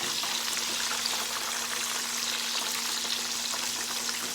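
Mushrooms deep-frying in hot oil, a steady close hiss and crackle of bubbling oil with light stirring, even in level throughout and without speech.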